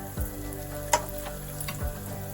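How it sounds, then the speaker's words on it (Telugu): Cluster beans with coconut garlic masala sizzle in a pan, a steady close hiss broken by a few scraping stirs and one sharp clack of a spoon on the pan. "ఒకసారి కలిపేస్తున్నాం."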